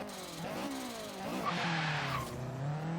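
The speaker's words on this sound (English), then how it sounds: "let's do a little bit of a launch here in first gear" An Acura RSX with an all-wheel-drive build in Forza Horizon 3 launches hard in first gear, its engine revving up in rising tones over loud tire squeal, then bogging slightly before pulling on.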